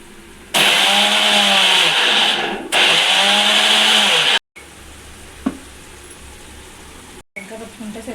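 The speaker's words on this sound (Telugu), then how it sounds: "నువ్వులైతే మిక్సీ పెట్టుకుంటానండి" A kitchen mixer grinder whirs loudly as it grinds sesame seeds, running in two bursts with a brief pause between, then stopping, followed by quieter handling sounds and a clink.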